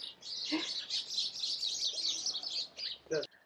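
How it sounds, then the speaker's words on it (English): Many birds chirp steadily outdoors, a continuous bright twittering chorus, with a faint voice briefly under it near the end. "The birds. Ambient noise."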